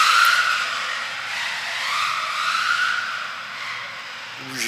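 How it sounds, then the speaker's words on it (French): A small radio-controlled car's motor whines loudly and continuously, pitch rising and falling as it accelerates and runs, close by and alone. "Ce qui est bien avec ces moteurs bruyants, c'est que tu entends bien le moteur là."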